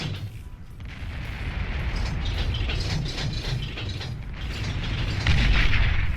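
Dense rumbling explosions and mechanical clatter from a large bomber attack in the real-time strategy game Beyond All Reason, continuous, loud and building toward the end.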